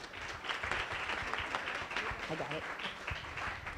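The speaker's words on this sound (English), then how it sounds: "Can we have a round of applause welcoming all of our guests?" Audience at a weekly Rotary Club meeting giving a round of applause to welcome guests, continuous moderate clapping throughout with voices speaking over it.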